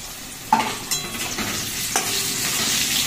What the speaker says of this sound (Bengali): এবারে আলুটা ভাজা হবে